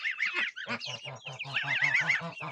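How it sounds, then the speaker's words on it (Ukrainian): Geese, goslings, chicks and ducklings share a small pen in 40-degree heat, giving a run of close, loud, repeated honks and high peeping calls that overlap with no pause. "Це в нас тут ось збірна курчата, гусенята, каченята"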